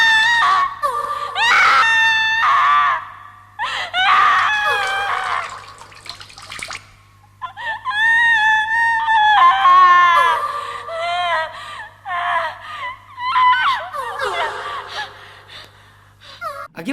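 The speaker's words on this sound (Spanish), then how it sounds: "una especie de alaridos femeninos que lo hacen en forma de melodía" Melodic female wailing from the soundtrack of a Guinea Pig horror film, rising and falling in long anguished cries and gasps, loud and close, with short pauses between phrases.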